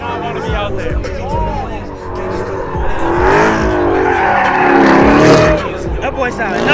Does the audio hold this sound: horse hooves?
no